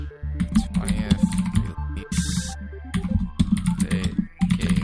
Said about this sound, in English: Clickiest keyboard I've heard all day.